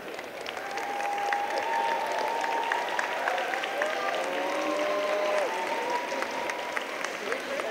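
Steady applause fills a packed high school gym at a fall sports rally for the unified basketball team, with sustained clapping, whistles and cheering voices holding at an even level throughout.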